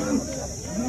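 A cow at the Sangola cattle market gives two loud, close moos, one short and one drawn out, over a faint market murmur.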